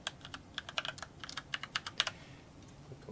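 A password is typed on a computer keyboard, a quiet run of roughly twenty crisp close key clicks in uneven clusters, tapering off near the end, with no speech.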